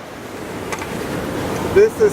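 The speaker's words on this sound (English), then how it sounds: "This is the whole wastewater from the city of Graz." Untreated wastewater from the city of Graz, about one cubic meter per second, rushing through an underground sewer canal as a broad, steady roar, with brief tonal sounds near the end.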